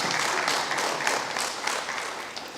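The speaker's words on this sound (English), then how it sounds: "Let's give Dennis a round of applause" An audience at the CaribNOG 25 tech forum during Grenada ICT Week applauds, a dense, steady round of clapping that tapers off slightly over a couple of seconds.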